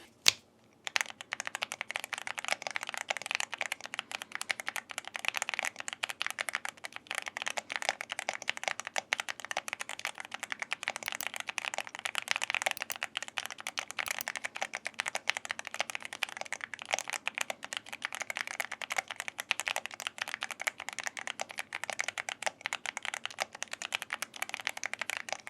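Continuous fast typing on a YUNZII AL66 mechanical keyboard, a dense stream of close clacking keystrokes that runs without pause for the whole length.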